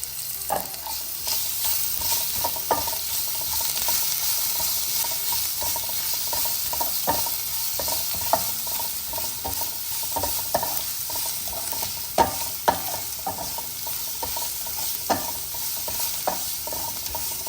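Ginger and garlic frying in a pan for dal curry: a continuous close sizzle with scattered sharp clicks and scrapes from stirring, steady and fairly loud throughout.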